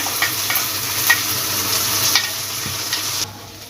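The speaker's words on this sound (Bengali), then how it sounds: "এটাও ভালোভাবে ভেজে নেব তেলের মধ্যে" A paste of onion, ginger, garlic, chili and tomato frying in oil, giving a loud, dense, continuous sizzle with occasional spatula scrapes and stirring knocks, close up with no talk.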